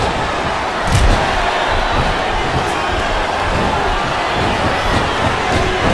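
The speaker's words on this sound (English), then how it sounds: "Wow, listen to that chant, Taz." Arena crowd in WWE SmackDown vs Raw 2007 during a women's Ironman match, a dense, steady roar of chanting and cheering that fills the whole clip at even loudness with brief surges.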